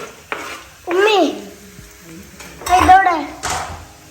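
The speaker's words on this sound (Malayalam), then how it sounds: "നമ്മൾ ഉള്ളി ഇടുകയാണല്ലേ" Onions frying in a pan and being stirred, with a steady low sizzle broken by two louder bursts of scraping, clattering stirring up close.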